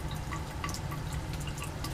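Liquid dripping from a reflux condenser into a separatory funnel during a Grignard reaction, small distinct drips ticking at a quick irregular pace over a low steady lab hum.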